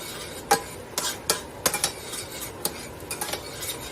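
A utensil stirring garlic into vegetables in a pan, a run of sharp metallic scrapes and clicks in irregular rhythm over a faint sizzle, close by and with no one talking.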